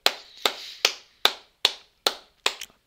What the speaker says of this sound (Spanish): vamos a aplaudir y lo vamos a celebrar. Venga, va, un aplauso. Se aplaude.